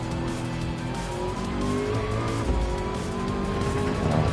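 Race car tires squeal continuously in Gran Turismo 7 at Daytona, a loud sustained skid layered over a roaring engine, with no talking.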